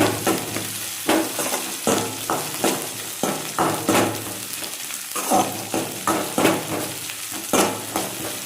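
Onions sautéing in a pan, a close steady sizzle broken by rhythmic scraping strokes of a spoon stirring roughly every second.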